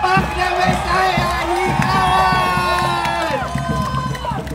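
A festival crowd cheers and shouts for a marching band with majorettes from Mariners Polytechnic Colleges Foundation. The roar is loud and sustained throughout, with excited whoops rising above it.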